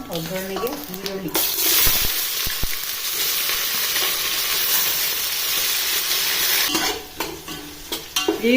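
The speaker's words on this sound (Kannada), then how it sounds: "ಈರುಳ್ಳಿ ಸ್ವಲ್ಪ ಕೆಂಪು ಕಲರ್ ಆಗೋವರೆಗೂ ಫ್ರೈ ಮಾಡ್ಕೋಬೇಕು" Chopped onions sizzle loudly in hot oil for a tempering while being stirred, the frying hiss steady and close, with a few clinks of a spoon against the pan at the start and end.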